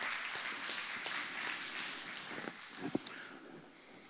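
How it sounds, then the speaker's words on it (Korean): Audience applause at a launch ceremony for a business advisory group at the World Korean Business Convention, a moderate wash of clapping filling the hall throughout, with a few sharper claps standing out near the end. "여러분 박수 한번 보내주십시오"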